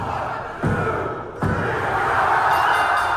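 A wrestling arena crowd roars in a big pop, a dense wall of cheering broken by two heavy thuds, loud and sustained with no single voice standing out.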